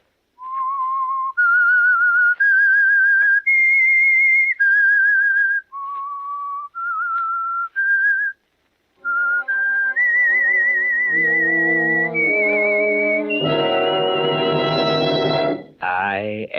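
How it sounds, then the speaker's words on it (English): A lone whistler performs a signature eerie radio-drama tune, clear pitched notes rising and falling in a slow melody with brief pauses, ending as orchestral music swells in under it. "That whistle is your signal for the Signal Oil Program"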